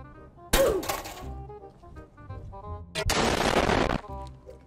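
A tempered glass computer case side panel is thrown onto a hard floor twice: a sharp, loud crack, then about a second of clattering rattle, with music playing underneath.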